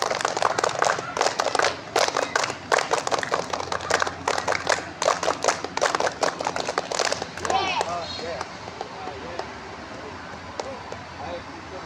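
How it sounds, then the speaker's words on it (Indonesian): Schoolchildren do the rhythmic scout clap in a classroom, with sharp, fast bursts of many hands clapping in patterned groups that stop near the end, leaving quieter chatter. "Sebelum kita tutup, 3 kali tepuk pramuka."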